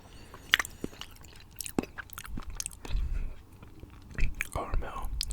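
Chocolates with caramel, strawberry, orange cream and truffle fillings are chewed close to the microphone, giving soft wet bites and squishy crunches in irregular bursts, with faint whispery breaths between them.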